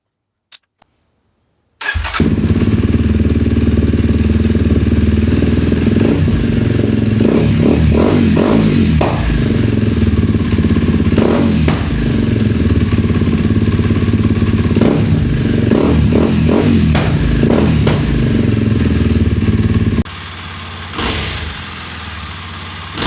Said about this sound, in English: Let us remove the DB killer from the exhaust and see how that changes things.